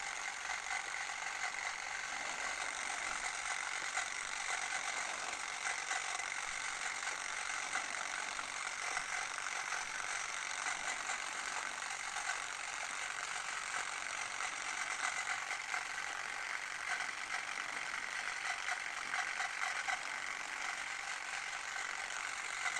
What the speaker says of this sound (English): So this is a Klixer Dreadlock Machine. Be careful with your fingers because it's really moving.